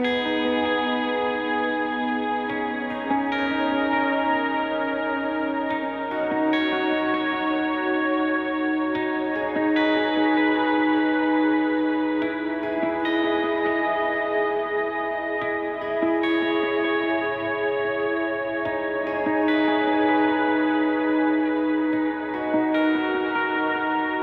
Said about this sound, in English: Now I'm going to add a little bit of overdrive and throw my reverb and delay back on,